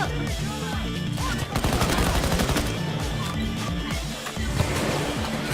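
Rapid bursts of automatic gunfire and scattered shots ring out in a Payday 2 heist shootout, dense and close against game music and effects, while players talk excitedly over the action.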